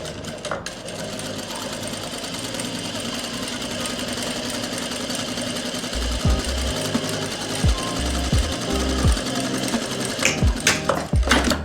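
A sewing machine runs a long steady stitch along a plazo pocket with a half-inch margin, its motor humming evenly up close, then switching to a series of short, thumping bursts near the end.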